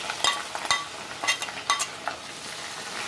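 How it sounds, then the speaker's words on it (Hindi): Red chili powder and salt being stirred into nahari masala in a pot for Hyderabadi nahari paya: several close, scraping spoon strokes over a steady sizzle, with no talking. "अच्छा मिक्स करिए इसको"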